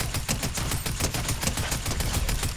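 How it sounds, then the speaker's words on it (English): Rapid bursts of gunfire in the video game Fortnite crackle continuously, a dense rattling volley of shots with no voices. "I saw gunshots over there"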